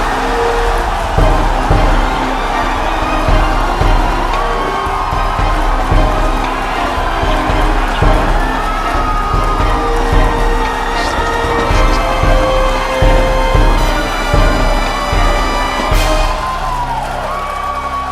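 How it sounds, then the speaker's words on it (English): A large crowd roars and cheers as a SpaceX Falcon Heavy rocket lifts off after the countdown. The sound is loud, sustained and dense, with shouts and whistles layered over a deep rumbling wash. "If you can hear me over the cheering"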